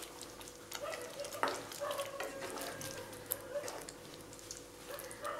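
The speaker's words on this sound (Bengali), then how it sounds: "এরপর আমি একটু নেড়ে দিচ্ছি" A spoon stirs matar paneer curry with spices and garam masala in a hot pan, with quiet repeated scraping strokes over a soft, ongoing sizzle and no talk.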